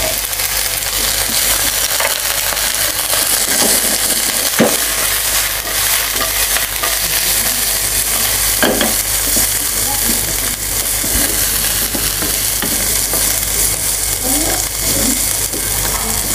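Green beans stir-fried in a pan with browned garlic make a loud, constant sizzle with scattered scraping stirs throughout, close by, while someone talks over it.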